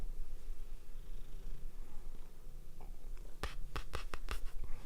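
A cat purrs steadily close to the microphone while kneading its paws, a continuous low rumble with a few sharp scratchy clicks toward the end.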